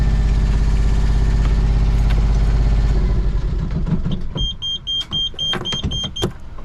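A sailboat's engine idles with a loud, steady low rumble and is then switched off. The rumble dies away, leaving quieter intermittent clicks and a few high electronic beeps.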